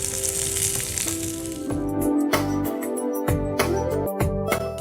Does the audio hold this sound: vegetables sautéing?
yes